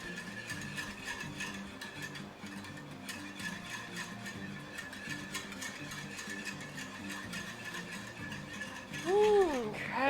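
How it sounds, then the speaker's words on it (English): A whisk rattles and taps steadily against a bowl while crystallized honey is stirred in, a continuous clinking, ratchet-like texture of fairly even level that swells slightly louder near the end. "Just keep whisking. Whisk, whisk, whisk, whisk away to melt that honey."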